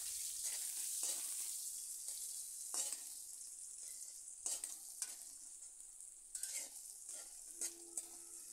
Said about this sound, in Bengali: এই পেঁয়াজ কুচি একটু লাল করে ভেজে নেব।